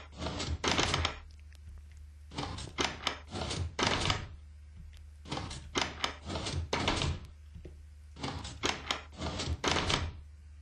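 Minecraft doors driven by a redstone piston flip-flop open and close in quick clusters of wooden clacks and thunks, grouped bursts of three or four knocks repeating every couple of seconds over a low steady hum.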